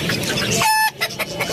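A green-necked rooster kept in a small backyard aviary gives a few short, close clucks. A voice can be heard at the same time, and a bird briefly squawks in between.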